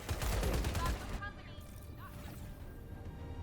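Gunfire erupts in the video game Wildgate as a loud burst of rapid shots and crashes, then gives way to quieter mechanical whirs and tones, with a voice talking over it.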